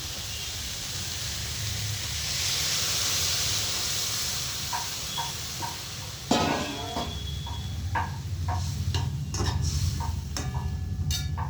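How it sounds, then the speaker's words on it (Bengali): Water poured into a hot pan of cauliflower curry with ginger and spices, a broad sizzling hiss that swells, then a sharp clatter followed by bubbling, ticking and scattered utensil knocks, close by and without talk. "এবার আমি জল দিয়ে দিচ্ছি।"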